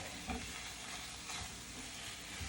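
Eggs being folded as they cook in a pan give a soft, steady sizzle with light scraping stirs, close and continuous with no talking.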